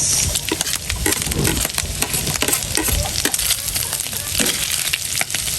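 Garlic and onion frying in a pan, stirred continuously, giving a loud dense sizzle with rapid scraping and clattering of the spatula close up.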